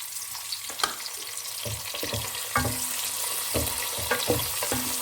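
Onions and potato pieces frying in a pan, a steady broadband sizzle throughout with several sharp clicks and spoon knocks scattered across it, close and fairly loud, no voices.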